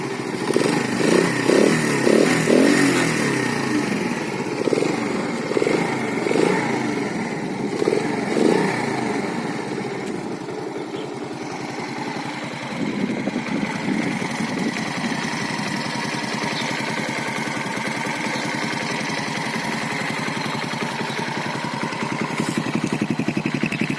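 A cheap Delta moped engine idles close by, a loud buzzy putter that steadies into an even, rapid rhythm holding revs after a few early throttle blips.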